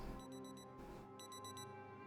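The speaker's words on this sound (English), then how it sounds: "Turn off our alarm because that's going to cause us trouble" An alarm clock in the Project Zomboid video game rings in repeated rapid electronic beep bursts, two clusters separated by a brief pause, fairly quiet over a faint hum.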